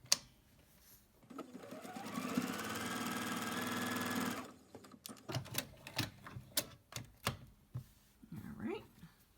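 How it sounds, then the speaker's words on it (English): A sewing machine stitches a scrappy quilt block made from crumbs, running in one steady whirring burst for about three seconds. Softer clicks and handling noises follow, along with some faint speech. "I just want to sew it on there."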